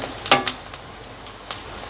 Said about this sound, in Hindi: देखिए प्याज को थोड़ा सा मैंने फ्राई कर लिया